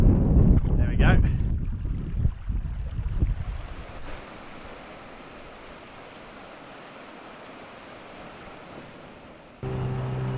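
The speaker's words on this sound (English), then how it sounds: "it's time to navigate the interceptor out to the deeper water at the mouth of the inlet" A small boat called the Interceptor motors out through an inlet toward deeper water at its mouth: a loud engine and splashing water at first, then quieter steady motoring with wind and water noise, under someone speaking.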